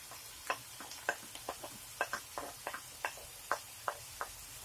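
Onions and peppers sautéing in a pan for a Kayseri yağlaması dish, with a stream of sharp, irregular ticks and clicks from a utensil against the pan over a faint sizzle, moderately close and quiet, no talk.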